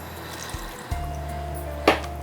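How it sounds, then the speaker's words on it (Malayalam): Water is poured into a pan of egg kheema masala, a soft low liquid trickle and fill with a brief splash near the end, close by and without talk. "ഇതിപ്പോൾ 1 കപ്പ് വെള്ളം ഒഴിച്ച് കഴിഞ്ഞു"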